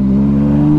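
Brand-new Yamaha MT-09 motorcycle with an aftermarket Jeskap exhaust, a loud close engine note held at a steady deep drone for under a second.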